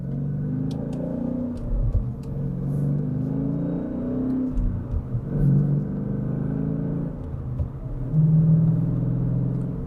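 A Hemi Dodge Challenger fitted with a new Barton short shifter drives along with a steady, loud low engine rumble and a few swells as it revs and shifts, with no talk.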